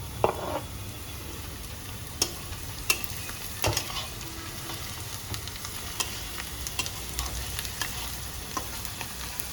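Garlic frying with browning onions in a pan for an Italian vegetarian melanzane, a continuous sizzle broken by sharp clicks and scrapes of stirring, close and moderately loud.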